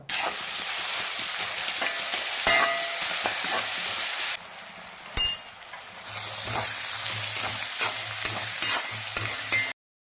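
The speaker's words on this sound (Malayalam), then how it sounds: "എണ്ണ ചൂടാവുമ്പോൾ അരിഞ്ഞു വെച്ച സവോളയും പച്ചമുളകും കറിവേപ്പിലയും മസാലകളും ചേർത്ത് നന്നായി ഇളക്കുക" Chopped onions, green chilies, curry leaves and spices stirred in hot oil for a prawn roast, giving a steady loud sizzle with scraping spoon strokes, a brief drop in the middle, then the frying resumes.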